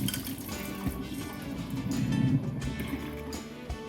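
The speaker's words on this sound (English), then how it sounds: "All right, carefully drain off the water." Hot water is drained off blanched cherry tomatoes into a sink: a soft, continuous pouring gurgle that swells in the middle and then eases, fairly quiet and close.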